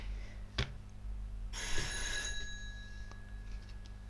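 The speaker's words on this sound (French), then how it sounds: "J'ai perdu le fil avec la sonnerie." Telephone ringing indoors: a faint bright ring bursts in and sustains for about a second, with fainter ringing tones after it, over a quiet low hum.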